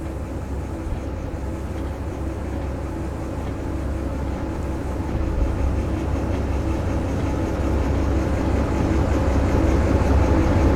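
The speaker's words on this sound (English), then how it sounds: "All those locomotives rolling past you." Locomotives in the train simulator Derail Valley rumble past in a steady, loud low drone with a metallic rolling texture, growing slightly louder midway and continuing without pause.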